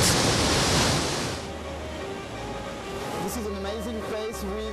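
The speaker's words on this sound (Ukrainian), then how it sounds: "Це дивовижне місце з каскадами 14 водоспадів." Cascading waterfalls in a Swiss gorge give off a loud, steady rush of falling water. A strong burst of noise sits at the start, and the roar continues without a break to the end.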